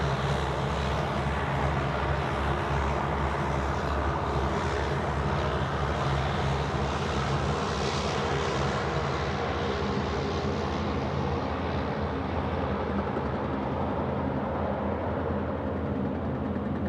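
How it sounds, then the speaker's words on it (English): A Link Airways propeller airliner bound for Canberra takes off at Sydney Airport, its loud, droning prop engines roaring steadily for the whole stretch, with no voices heard. "How loud are the props, mate?"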